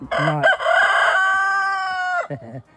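A single loud rooster crow rings out close by, a long drawn-out call followed by a short trailing note.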